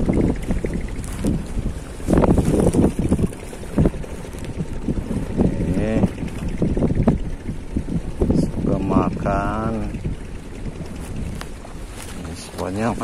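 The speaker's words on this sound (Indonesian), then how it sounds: "Anginnya sangat besar." Strong wind roars and buffets across a river estuary during a fishing trip, loud and continuous throughout, with people talking over the gusts.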